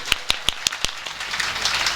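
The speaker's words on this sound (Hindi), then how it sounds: "एक बार जोर से ताली बजाओ सब लोग।" A few sharp claps ring out one after another at a religious Ram katha gathering, then fade into a diffuse spatter of crowd applause, close and fairly loud with no talking.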